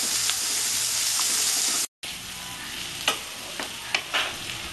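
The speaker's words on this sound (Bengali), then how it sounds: "পেঁয়াজটা আমার লাল লাল হয়ে গেছে" Onions frying in oil for a Bengali-style bata fish curry give a steady close sizzle, with a few sharp stirring scrapes and clinks near the end and a brief break in the middle.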